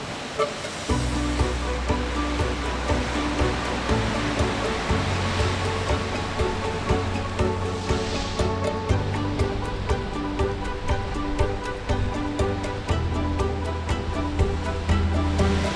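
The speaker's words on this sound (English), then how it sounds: "those waves just crash into those cliff caves" Ocean waves surge and crash into sea caves along the lava-rock cliffs at Spitting Caves near Honolulu, Hawaii, a loud continuous roaring wash with rolling low booms and no voices.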